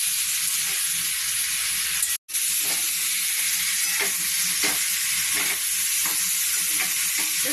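Ginger and cumin paste with salt being sautéed in oil for a Bengali taro curry, a loud continuous sizzle with steady stirring scrapes and a momentary break partway through, no voices.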